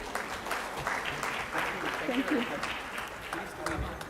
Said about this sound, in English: Can we have a round of applause for our first male speaker of the day?